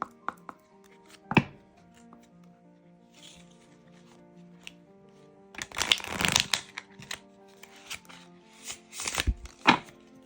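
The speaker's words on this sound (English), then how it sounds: "So let's see how they shuffle." Stiff, new 45-card Wisdom of the Wildlings oracle deck being shuffled by hand: a single riffle early on, a quiet stretch of faint handling, then several dense, close bursts of card flutter.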